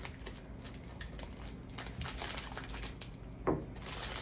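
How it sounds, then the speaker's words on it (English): Crinkly wrapper of an Alani protein bar being opened, followed by cutting off a small piece. Close rustling and crunching run throughout, with a sharper snap near the end. "So I'm just gonna open this up a little bit and just, cut off a little piece."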